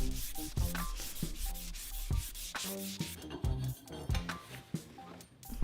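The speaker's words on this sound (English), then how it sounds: "Then I sanded it with some fine sandpaper to get any markings off." Fine sandpaper rubs back and forth over copper pipe in steady, repeated strokes, close and fairly loud, with occasional light metallic clinks between passes.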